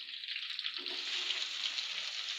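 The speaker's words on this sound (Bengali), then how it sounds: "অনেক সুন্দর করে ভাজতেছে" Giant freshwater prawns fry in hot oil, a steady dense sizzle with bright crackle throughout and a slight shift in tone partway, close and continuous without any talking.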